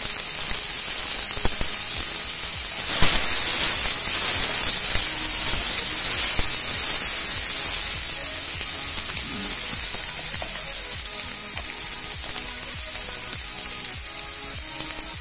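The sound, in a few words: frying chopped onions with cumin in oil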